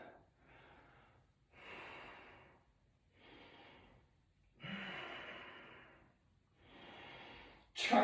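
Slow, steady breathing during a held yoga pose, with several long inhales and exhales spaced evenly, close and soft, and no speech.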